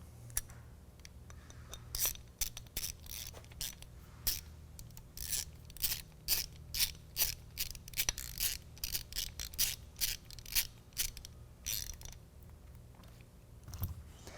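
An Allen head bolt being tightened on a BakFlip CS truck rack: a quiet, irregular series of sharp metallic clicks and ratcheting scrapes, close by and without talk.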